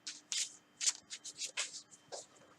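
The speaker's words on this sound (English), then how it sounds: "cards don't want to be shuffled anymore" Playing cards are shuffled in a quick series of crisp riffling bursts, close and fairly quiet, with short pauses between.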